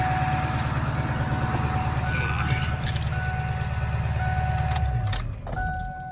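A 1997 Ford F-350 with the 7.3 engine, idling as a low, even rumble with a rhythmic throb, heard up close, with light metallic clinks and jingles over it before the engine note drops near the end.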